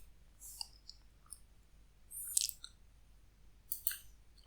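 Sparse, faint mouse clicks while deleting cells in Google Sheets, a few sharp isolated taps spread across a quiet room background with no talking.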